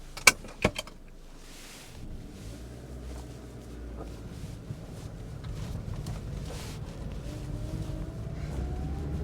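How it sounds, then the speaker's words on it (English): A low, smooth engine hum builds gradually inside a Proton Saga Iswara 1.3 car while driving, quiet and steady, after a couple of sharp clicks at the start. "the engine is very smooth and responsive, and quite quiet in that typical Japanese style"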